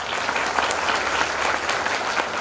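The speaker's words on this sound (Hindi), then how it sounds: "मेरे grade upline mister Madan sir यहाँ पर हैं, इनके लिए मैं जोरदार तालियां चाहूंगा।" Dense, steady applause from an audience at a Nutri World company new-car achievers event, filling the room evenly from start to finish with no one speaking over it.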